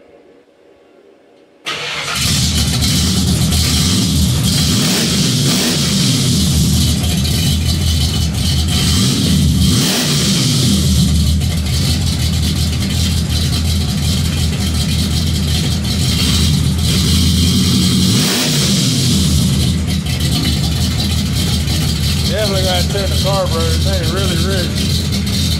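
Car engine fitted with a custom-built exhaust cranks over and fires up after a short quiet pause, then runs loud and close with several rising revs and a rattling tone, voices talking over it.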